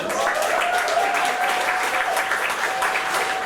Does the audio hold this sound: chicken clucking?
no